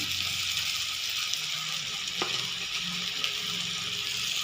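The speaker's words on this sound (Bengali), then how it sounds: "এবার মশলাটাকে একটু কষিয়ে নেব।" A ground spice paste with turmeric and salt fries in a pan, giving a steady, close, even sizzle with a faint stirring scrape partway through.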